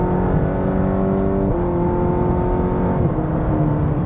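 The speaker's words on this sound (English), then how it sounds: "All right, let's check its passing ability here." A 2023 Cadillac CT4-V accelerates hard to pass, its engine drone climbing steadily through the gears. Two quick upshifts break the rising tone. The sound is loud and continuous from inside the cabin, with no talk over it.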